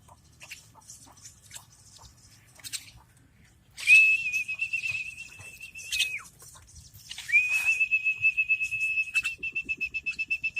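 A person whistles to call birds down: two long, steady, high notes, each held a couple of seconds, followed by a quick run of rhythmic chirpy pulses; close and fairly loud.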